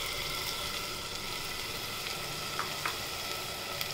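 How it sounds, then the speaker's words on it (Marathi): Tomato puree hitting hot oil for chole, a quiet, even sizzle hissing steadily throughout with a few faint clicks and scrapes near the end, no voices. "तर आपण हे टोमॅटो प्युरी करून घेतली ती टाकूया"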